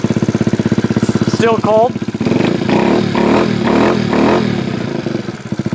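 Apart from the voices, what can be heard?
Honda Ruckus fuel-injected scooter engine cold start and revving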